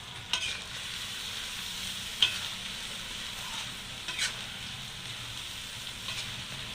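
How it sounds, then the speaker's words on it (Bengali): Meat goes into hot oil in a home Bengali kitchen and fries with a soft, steady sizzle, broken by a few brief stirring scrapes and clinks at moderate volume, with no talk. "এখন এই মাংসগুলো দিয়ে দেবো।"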